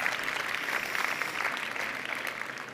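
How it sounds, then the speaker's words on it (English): A round of applause from a conference audience at the close of a media session, a steady wash of many hands clapping at moderate level throughout, evenly sustained with no voices standing out. "Round of applause for Angela."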